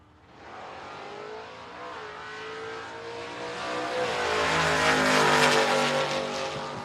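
Drag racing cars launch off the starting line at a drag strip event, a roaring engine surge building and swelling louder over several seconds before easing slightly, with no talk over it.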